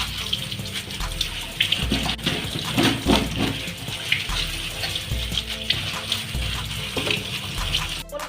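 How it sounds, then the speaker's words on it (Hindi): Tap water runs steadily while a peeled elephant foot yam (suran) is rubbed and rinsed beneath it, a loud continuous splash with bumps and handling noises throughout. "अब इसे हम फ्रेश धो लेंगे। इसे हम फ्रेश धो लेते हैं। तो इस तरह से इसे रगड़ कर हम धो लेंगे।"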